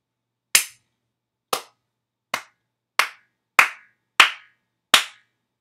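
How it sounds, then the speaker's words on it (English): Seven sharp, separate hand claps ring out close and loud, about a second apart, with the later ones coming slightly quicker, and there is near silence between them. "But now if we clap, it should move."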